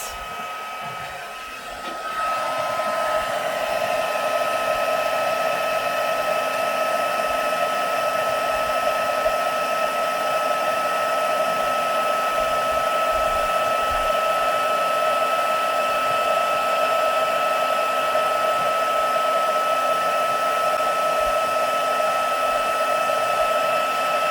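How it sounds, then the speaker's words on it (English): An embossing heat gun blows hot air in a steady, loud whoosh that starts up after a brief quieter moment and runs on continuously with a constant whine, close by and unaccompanied by talk, during card making. "let me heat up my embossing, my heat gun"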